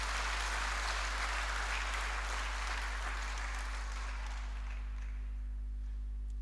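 A church congregation at Remera parish applauding, a broad wash of clapping that holds steady and then thins out toward the end, over a constant low electrical hum.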